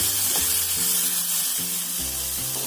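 Fish egg masala with tomato sizzles steadily in hot oil in a pan, a loud, continuous frying hiss with no voices over it.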